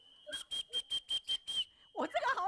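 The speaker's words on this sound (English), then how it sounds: "They're blowing the whistle." A lightweight whistle made from recycled PE plastic bags is blown in seven quick, evenly spaced shrill blasts, close and loud, followed by a burst of people talking.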